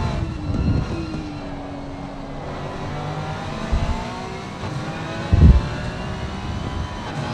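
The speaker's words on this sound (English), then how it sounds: "this pure sound of those cars coming down the mountain" GT3 race car engines roar past one after another coming down the mountain at Mount Panorama, rising and falling in pitch as they sweep by, with a heavier thump of a car near the end.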